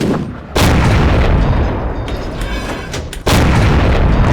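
A tank cannon fires twice in a World of Tanks match played in a T49. Each shot is a loud, sudden boom followed by a long rumbling tail, and the second comes about three seconds after the first.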